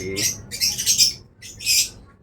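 Several bursts of high, bright bird chirping sound close by, with short pauses between them and a faint low murmur underneath.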